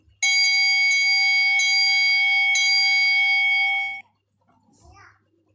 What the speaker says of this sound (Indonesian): bisa dimainin yang ketiga lato lato lonceng